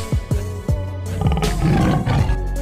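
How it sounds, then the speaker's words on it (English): A tiger roars loudly and close by, a run of deep, throaty bursts that swell into a longer rumbling growl. "The tiger."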